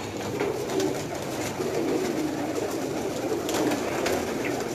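Fancy-breed pigeons in a wire-sided loft in Sialkot give low, continuous cooing against a busy background murmur, with no voices over it.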